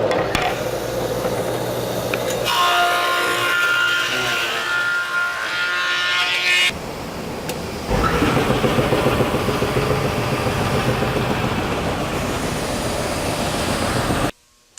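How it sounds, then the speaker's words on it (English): A thickness planer feeds a glued-up wooden bottom panel down to three-quarter inch, a loud steady machine roar with cutting bursts, pausing briefly before running again at close range. "we're planing it down to 3/4 of an inch like always"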